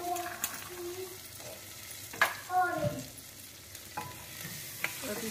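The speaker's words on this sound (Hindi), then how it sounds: "अब इसमें हम डालेंगे मटर। मटर को थोड़ा भूज लेंगे।" Peas sizzle and are stirred in a spiced masala for chana-matar chole, with a steady frying hiss and a few louder stirring scrapes and clinks spread through it, close by.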